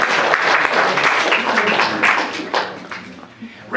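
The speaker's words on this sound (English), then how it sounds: "Why don't we clap for Reggie?" Audience clapping for a person at a talk, a fairly loud burst of many hands that rises and dips unevenly, with voices mixed in, thinning out before a final swell.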